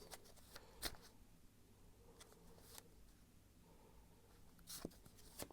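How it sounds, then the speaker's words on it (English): Soft, quiet rustling and riffling of tarot cards, with a few crisp snaps as the deck is shuffled close by. "I'm gonna shuffle and see what the cards have to say."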